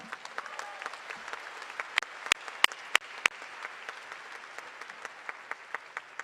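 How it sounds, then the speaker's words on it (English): Audience at a university commencement ceremony applauding, a sustained patter of many hands with a few sharp nearer claps standing out, fairly distant and even throughout. "Let's give them a round of applause."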